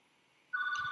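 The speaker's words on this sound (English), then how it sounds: "Excuse my hotel phone." A hotel room telephone starts ringing midway, a loud steady electronic trill close by that sounds alone after a quiet stretch.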